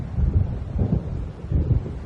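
Low rumbling wind and distant thunder of an approaching storm in the video game Alan Wake, a steady dark roar with swelling surges and no speech.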